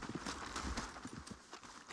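Horses' hooves clip-clopping on the ground in a Wild West video game, a quick uneven run of hoof strikes under faint background noise.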